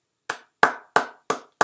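Five sharp, evenly spaced hand claps ring out close and loud, with silence between each one and no talking.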